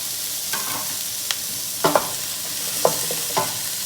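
Coriander, paprika and cumin sizzle softly in a pan of oil for shakshuka, a low steady frying hiss broken by a few scraping stirs of a utensil.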